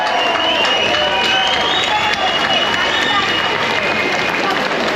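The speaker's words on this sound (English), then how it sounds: "So give them a round of applause," A crowd at a London rally applauding survivors, making a steady roar of clapping and cheering that stays loud and even the whole time.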